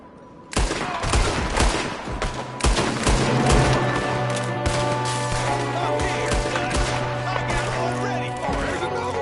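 Gunfire rings out in a Red Dead Redemption 2 shootout: a dense, continuous fusillade of loud, overlapping gunshots under a droning musical score, with voices shouting between the volleys.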